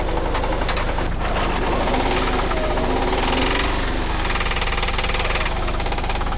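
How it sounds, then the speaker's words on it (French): A Peugeot 309 GTI rally car's engine knocks from a failing connecting rod during the 1992 Rallye du Touquet, a loud, continuous mechanical clatter with a rapid rhythmic beat over the engine's drone. "il y a une bielle qui fait du bruit"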